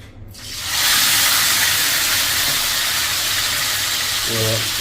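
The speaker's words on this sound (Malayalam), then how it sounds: "ഫ്രൈ ചെയ്യാൻ വെച്ചിട്ടുണ്ട് നമ്മൾ നമുക്ക് വേഗം ഫ്രൈ ചെയ്ത് കിട്ടും" Chicken frying in hot oil for a quick hotel-style fried chicken, a steady loud hiss that swells up within the first second and holds, with a brief low knock near the end.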